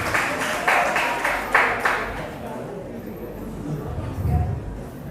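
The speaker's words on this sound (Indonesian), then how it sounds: "Tepuk tangan dong." Short burst of audience clapping at a talk for young people, a few loud claps early that fade into murmuring crowd chatter and background voices.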